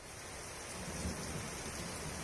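Heavy rain pours steadily with a deep rumble of thunder rolling underneath, a dense, loud wash of sound with no voices.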